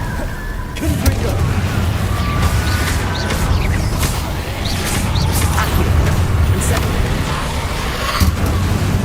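Spell effects from Hogwarts Legacy combat, with a fiery Confringo blast among the casts: dense, loud rumbling bursts and crackling impacts that run continuously, with sharp transient hits layered over a heavy low-end roar.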